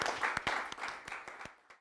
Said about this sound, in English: we should give Steph a round of applause for a well-constructed barbecue